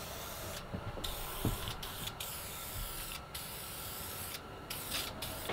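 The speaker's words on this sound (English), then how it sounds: "I'm just gonna apply a couple of coats of clear" Clear coat finish sprayed onto a wooden snowman candle holder made from a log: repeated short hissing spray bursts over a steady low background noise, fairly faint, with no talking.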